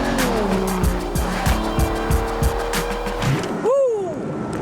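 A convertible sports car's engine revs hard and close, with rhythmic throttle blips and gear changes, then a sharp tire squeal as it swings through a bend near the end.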